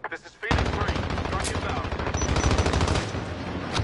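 Sustained automatic gunfire in the shooter video game Warzone, a loud, dense rattle of rapid shots that starts abruptly after a brief quiet moment and continues without pause to the end.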